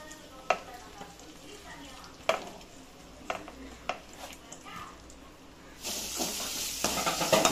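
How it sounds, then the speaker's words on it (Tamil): Onions frying in hot oil as the tempering for pumpkin sambar, with sharp stirring clacks of a spoon against the pan and a sizzle that swells into a louder, steady hiss near the end. "புளிச்சக்கீரைக்கு வெங்காயம் போட்டு தாளிச்சிடும்."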